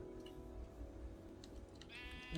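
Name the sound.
sheep bleating in Minecraft video game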